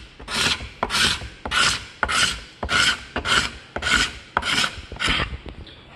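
A hand scraper shaves the surface of an end-grain wooden cutting board in about eight steady, close rasping strokes, each a bright scratchy push with brief pauses between.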